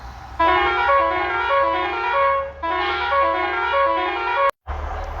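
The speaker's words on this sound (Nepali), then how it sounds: "हर्न सुन्दै जाउँ ल।" A loud musical horn on a Nepali bus plays a descending tune twice in a row, with steady engine rumble underneath.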